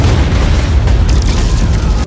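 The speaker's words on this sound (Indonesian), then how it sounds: "terjadi ledakan." A loud explosion bursts from a tomb as an ancient hero awakens in an action film, a dense sustained boom with heavy low rumble filling the whole moment, with no voices.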